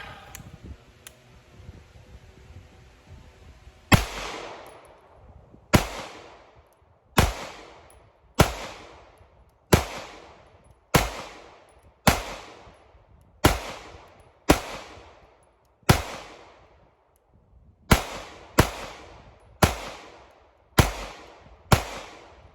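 An HK USP 9 pistol fired in double action, a steady series of about sixteen sharp, loud shots spaced roughly a second or more apart, each ringing out briefly, after a quieter stretch at the start.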